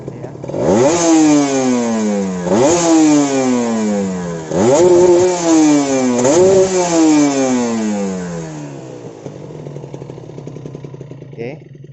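A Kawasaki Ninja 150RR two-stroke motorcycle engine after a major service, revved hard four times in quick succession, each rev climbing sharply and then falling back, loud and close. It settles into a rattly idle at the end.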